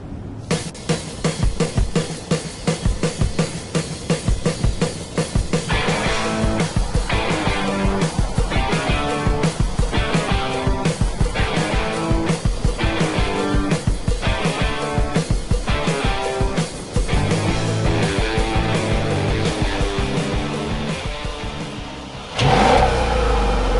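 A 2015 Mercedes S500 sedan accelerates hard during an acceleration test, its engine revving in repeated rising sweeps as gears change, loud and close throughout, with a brief lull and surge near the end and no voices.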